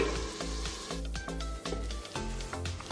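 Mutton fries in a pan and gives off a steady, soft sizzle with faint stirring scrapes. It stays at an even, moderate level throughout, with no talk.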